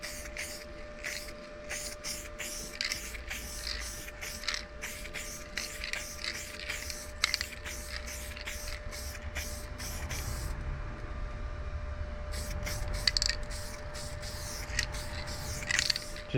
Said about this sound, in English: We can get a bit of weld through primer on there.